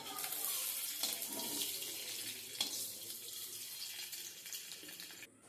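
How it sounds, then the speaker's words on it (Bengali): Egg pieces frying in oil in a hot pan for an egg curry, a steady broadband hiss and crackle that runs continuously, close and moderately loud with small spits, no voices. "বেশি কাটা ভাজবো না, আমি অল্প করে কাটা ভাজবো।"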